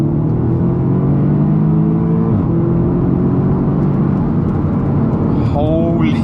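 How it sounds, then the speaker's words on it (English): A 2016 Audi S3 being driven, heard from inside as a steady low engine drone with shifting tones and a brief rise near the end, loud and continuous while a voice talks over it. "It is a 2016 Audi S3."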